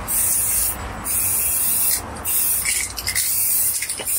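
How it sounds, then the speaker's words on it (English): An aerosol can sprays in loud hissing bursts close by, with short pauses between sprays. "just putting the final spray on now"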